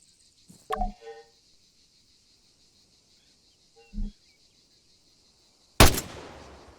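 Single rifle shots in Arma 3, three separate sharp reports spaced a few seconds apart, the last loudest with a long echoing tail, over a quiet background of insect chirring.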